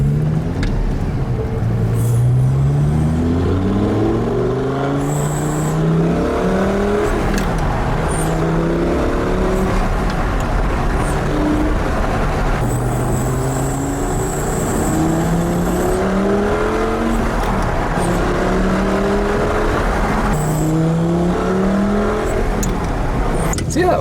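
A V10 car engine fitted with twin cone K&N air filters revs repeatedly, each climb rising and falling in pitch as a loud, close, continuous roar.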